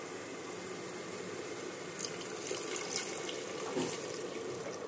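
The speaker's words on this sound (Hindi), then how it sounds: "और इसमें ऐड करेंगे पानी।" Water poured into a pan of potato and urad dal wadi curry for Amritsari aloo wadi, a steady close running splash with a few brief spikes over about five seconds, no talking.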